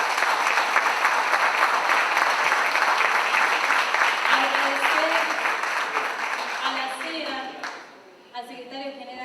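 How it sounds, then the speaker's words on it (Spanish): An audience at the XV Political Education Congress claps in sustained, dense applause for about seven seconds. The applause then fades and a voice begins speaking. "un aplauso, por favor."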